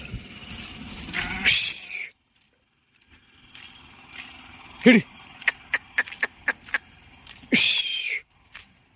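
Two loud, close bleats from a flock of sheep crossing a road in the rainy season, several seconds apart, with a run of sharp clicks and knocks in between.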